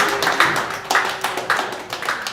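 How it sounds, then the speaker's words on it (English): Group at a livestream gathering doing a rhythmic celebration clap, four to five loud evenly spaced claps in unison, close and clear with no talking. "Everybody, one more time, a celebration clap."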